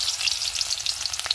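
Chopped onion sizzles in hot oil in a wok, a close, continuous crackling fry with a faint stir near the end and no talk.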